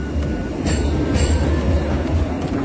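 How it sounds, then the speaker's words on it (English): A large tram passing at Hillsborough, a loud, close rumble of wheels on rails with brief metallic squeals and clicks over a steady low roar, no voices. "Right behind it, it's a big tram."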